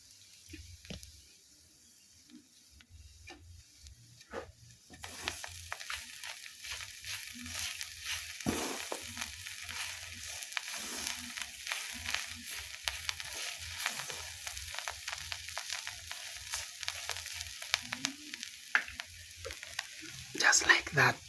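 White ants fry in a pan in an African village kitchen while being stirred: quiet at first, then a dense crackling sizzle with scraping and stirring noises that grows louder toward the end.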